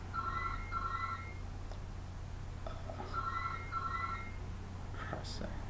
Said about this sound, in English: bloody phone goes off.